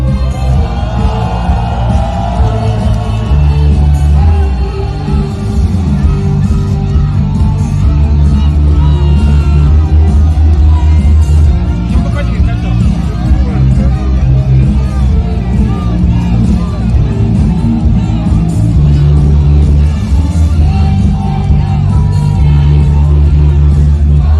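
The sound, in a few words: crowd applauding and cheering at a political rally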